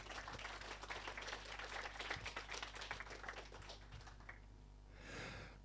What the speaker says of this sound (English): Please do give these, I think these guys need a round of applause